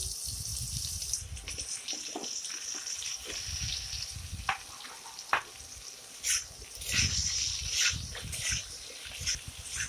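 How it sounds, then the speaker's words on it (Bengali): Potatoes sizzle in oil with a constant crackling hiss close by, broken by a few scraping stirs and low thumps from the pan. "ওই তেলেই আমি আলুগুলো ভেজে নেবো ভালোভাবে"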